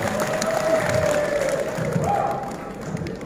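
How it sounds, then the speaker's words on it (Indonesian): A large audience of farmers at a motivational gathering in Bogor breaks into clapping and cheering with scattered shouts, fairly loud and close, the noise easing slightly toward the end. "Tepuk tangan segitiga buat semuanya."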